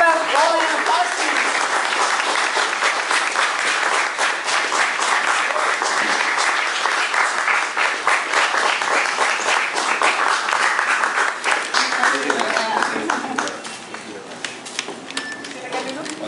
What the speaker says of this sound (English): Have a warm round of applause to you.